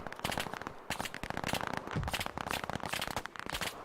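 Rapid automatic gunfire from a video game shooter crackles in dense, loud bursts, with short gaps between volleys.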